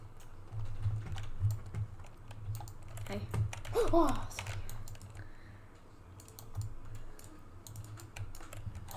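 Fast, irregular clicking from a computer mouse being spammed during PvP combat in a kit PvP game, crisp and close, running through the clip beneath game noise and a man briefly calling out.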